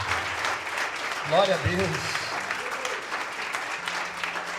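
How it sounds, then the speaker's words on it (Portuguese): A church congregation claps for Jesus during a revival anniversary celebration. The applause is moderate and runs under a voice speaking in Portuguese, with a brief sung or shouted phrase in the middle. "Vamos aplaudir a Jesus pela vida dela"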